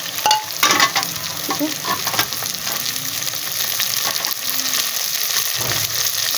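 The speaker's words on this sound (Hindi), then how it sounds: "मैं हमेशा ही कीमे को ऐसे भून लेती हूँ ताकि इसका कच्चापन ख़त्म हो जाता है।" Minced meat frying and being stirred in a pan, with a continuous loud sizzle and repeated scraping strokes of a spoon close by, and a brief spoken word partway through.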